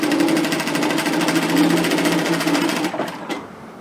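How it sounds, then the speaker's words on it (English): A sewing machine stitching a zipper onto a hoodie in a straight line, a loud, steady rapid whir that slows and stops near the end, with no talk. "pop your presser foot down and continue stitching in a straight line"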